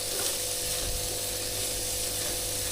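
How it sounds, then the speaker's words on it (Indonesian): Spices sautéing in a pan for opor ayam, a steady close sizzle and hiss running throughout with a faint low hum underneath. "Ini kita tumis nih teman-teman."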